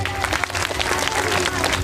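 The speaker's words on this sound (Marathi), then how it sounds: "आमच्या डिग्रसकर मंडळी या ठिकाणी आलेले आहेत, त्यांच्यासाठी एकदा जोरदार टाळ्या वाजवा" Audience at a kirtan gathering claps loudly in a dense, sustained burst of applause that fills the whole moment, with crowd noise mixed in.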